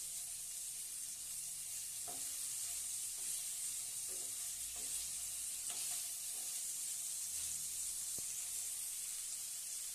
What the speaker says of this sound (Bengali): এটাকে অল্প লাল করে ভেজে নেব, বেশি ভাজবো না, নাহলে এটা শক্ত হয়ে যাবে।